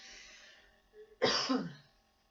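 A person gives a spluttering cough during a Pilates session, a faint throaty rasp followed by one loud, harsh burst that trails off, close by and with no speech.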